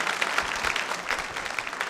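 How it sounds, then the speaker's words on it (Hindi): Audience at a nursing college quiz show clapping for a prize-winning contestant, a short burst of steady, moderately loud applause from a seated crowd, no voices heard. "तालियां बजा लीजिए अभिषेक जी के लिए"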